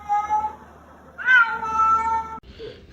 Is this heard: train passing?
no